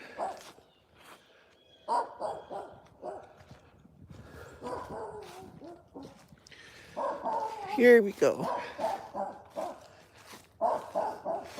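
A small dog barks and yips in scattered bursts outdoors, some whimpering tones mixed in, while someone talks nearby during a walk.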